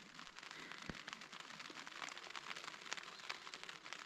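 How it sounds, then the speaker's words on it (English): Rain falls while a touring camp is packed up under a small porch, a soft, steady patter with scattered sharper drips close by, fairly faint and without voices. "it sounds like we're packing up in the rain."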